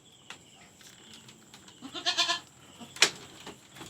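Goats bleat on a farm while they are being fed and watered: a soft, wavering call in the middle, then a sharp, loud bleat close by, with quiet rustling around them.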